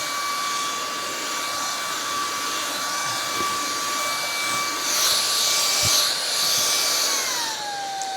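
A Shark Rocket Pet Pro cordless stick vacuum whines steadily with a sharp high motor tone, then its pitch drops near the end as the suction setting changes, with no one talking.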